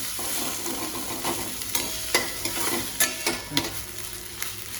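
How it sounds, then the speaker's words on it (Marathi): Onions and a ground masala paste sizzle steadily in a pan while being cooked for sukka chicken, with repeated scraping stirs of a spoon against the pan over a constant hiss. No one speaks. "कांदा थोडासा परतलाय आता टोमॅटो टाकूया"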